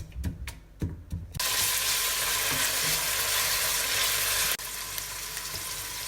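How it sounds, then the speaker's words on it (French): Carrots and onions searing in a pan, a bright continuous sizzle that starts abruptly after a few clinks of utensils, holds loud and steady, then drops suddenly to a quieter hiss. "On fait saisir les carottes avec les oignons."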